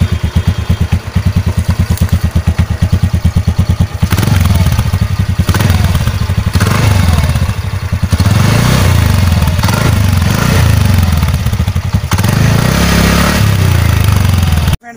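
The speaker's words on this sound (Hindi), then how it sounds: "इसका जो एग्जॉस्ट का साउंड है वही बहुत स्मूथ दिया गया है।" A new-model TVS Ntorq 125 scooter's exhaust idles with a loud, rapid putter for a few seconds, then revs into a sustained, smooth drone with rises and dips in engine speed, heard up close.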